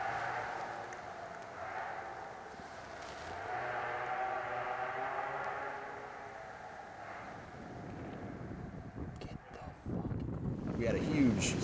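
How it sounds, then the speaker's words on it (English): Strong wind blows outdoors after a storm, a continuous rushing roar rising and falling across the stretch, with someone talking over it. "It's still real windy"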